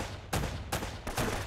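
Gunfire in the video game Uncharted, three sharp bursts of shots in quick succession, loud and close, with short quiet gaps between them.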